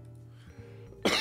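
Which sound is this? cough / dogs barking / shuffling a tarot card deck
cough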